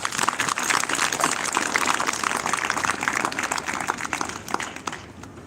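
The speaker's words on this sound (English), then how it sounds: "Let's give them one big round of applause." Audience applause at a school event for a student performance, sustained broadband clapping from many hands at fairly even loudness, thinning slightly at the end.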